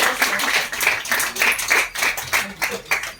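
Clapping from a group at a career bootcamp lecture, distinct uneven hand claps in quick succession at close range, fairly loud, with some voices mixed in.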